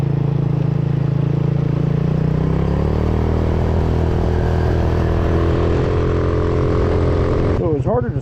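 A GY6 150 Maddog scooter engine fitted with a GLIXAL CDI runs close by as a loud, buzzy drone, its pitch stepping up a few seconds in and holding steady until a brief stutter at the very end.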